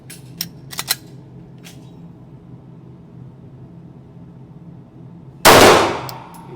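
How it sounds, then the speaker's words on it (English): A Glock 17 pistol fires one sharp, loud shot near the end with a ringing decay, preceded by a few light mechanical clicks over a quiet background. "The Glock 17 shooting way left."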